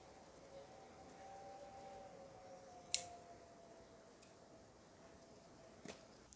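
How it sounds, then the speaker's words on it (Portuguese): Scissors snip the leftover yarn ends on a rectangular crochet rug, two faint, brief cuts spaced a few seconds apart over a quiet room with a soft steady hum. "Agora eu vou só amarrar as duas pontas de fio e cortar as sobras."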